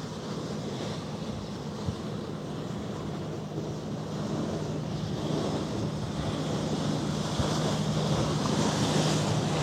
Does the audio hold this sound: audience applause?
no